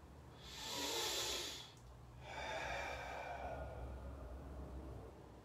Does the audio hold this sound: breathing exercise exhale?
yes